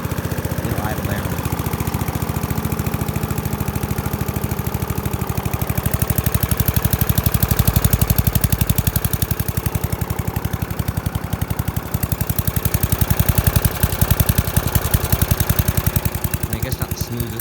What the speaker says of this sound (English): It has a brand new air filter in it. Very smooth. It'll idle down.